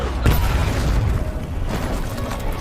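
A bomb explodes in a film scene, hitting a SWAT team as they try to rescue a mother; a loud, dense boom with a sharp onset and a rumbling, roaring wash that lingers to the end.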